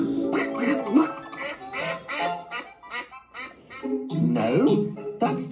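A cartoon character imitates a duck call with a run of loud, nasal quacking voiced sounds in several bursts, close up, coming through between stretches of animated voice.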